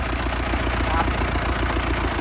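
A used Euro 55-horsepower tractor engine idles steadily with a low, even rumble, close by and continuous, under a man's speech.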